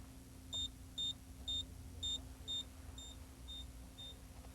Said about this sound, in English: The operating panel will beep